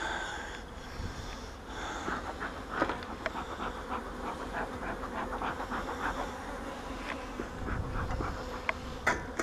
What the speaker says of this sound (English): there's a lot of bees in this thing